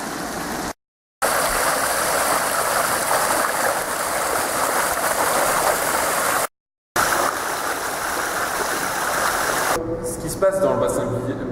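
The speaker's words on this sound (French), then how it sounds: "C'est la surverse du clarificateur et c'est l'eau qui va directement à la rivière." Clarifier overflow water at a wastewater treatment plant, a loud continuous rushing stream heard close, broken by two brief cuts, with a clanking mechanical rhythm joining near the end.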